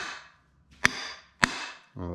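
Two sharp hammer strikes on a Cerakote H Series coated metal surface, each a bright ringing clank about half a second apart, close and clear, followed by the start of a voice.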